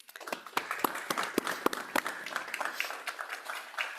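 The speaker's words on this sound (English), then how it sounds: "would love to give you all a round of applause for the achievement you've had here" Scattered clapping at a commission meeting, a modest round of applause from a small group with distinct individual claps, fairly faint and heard alone.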